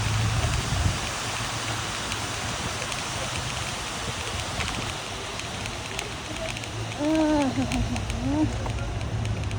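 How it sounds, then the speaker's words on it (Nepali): Waterfall in a park, a steady broadband rush of falling water filling the scene, with a brief voice partway through. "यो झरना चाहिँ दामी छ"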